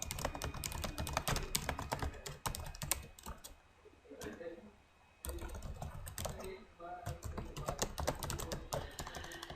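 Rapid, irregular clatter of typing on a computer keyboard while writing comments for a blog post, close and fairly quiet, with two brief pauses and soft background murmur.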